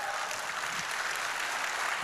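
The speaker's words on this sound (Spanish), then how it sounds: "Dale el aplauso si lo quieres dar." A congregation applauding during a church sermon, a dense steady wash of clapping throughout, moderately loud and without speech.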